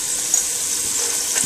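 Garlic frying in a pan with oil, a steady high hiss of sizzling close by, with no talking.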